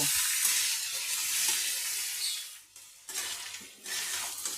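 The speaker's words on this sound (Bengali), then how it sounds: "আমি গ্যাসটা মিডিয়াম ফ্লেমে করে দু মিনিট এইভাবে ভেজে নেব" Pumpkin seasoned with salt and turmeric frying in a pan over a medium gas flame, a close, bright sizzle that swells and dips, with a brief lull near the middle.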